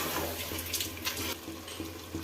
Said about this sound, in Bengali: এখন দেবো একটু জল